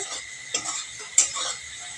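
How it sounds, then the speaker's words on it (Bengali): Potatoes fry in a pan with a soft, continuous sizzle, broken by two sharp spatula scrapes against the pan, close and fairly loud. "আর এদিকে দেখো আলু ভাজা চলছে"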